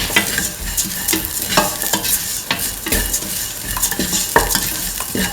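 Shallots and salt sizzle loudly in a hot pan while a utensil stirs them, giving repeated scraping strokes and clatters over a continuous frying hiss, close up and with no voices.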